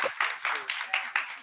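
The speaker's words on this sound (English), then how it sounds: "Let's get that a round of applause." A brief round of applause, heard as a short run of rhythmic, evenly spaced clapping bursts, fairly close and moderately loud.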